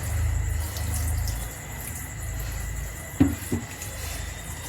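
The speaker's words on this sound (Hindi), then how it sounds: "अब थोड़ा सा पानी और डालेंगे" Water poured into gourd fritter batter in a home kitchen, a short soft splash and trickle arriving near the end over a faint steady background hum.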